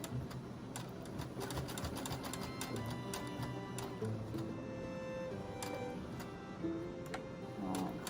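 A sewing machine stitches slowly through a thick, large fabric shopping bag, its needle ticking in a steady, fast rhythm over a constant motor hum, fairly faint and heard alone.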